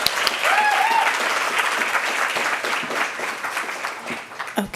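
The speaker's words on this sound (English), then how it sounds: "Can we give another round of applause?" Sustained clapping from an audience at a women's empowerment panel, moderately loud and steady with a brief vocal whoop early on, tapering off slightly toward the end.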